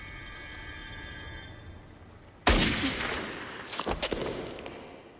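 A sharp, loud gunshot in a 1998 Nick Fury action film bursts out of a quiet hum, followed about a second later by a few more cracks and a rumbling tail.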